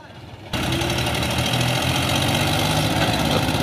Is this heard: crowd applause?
no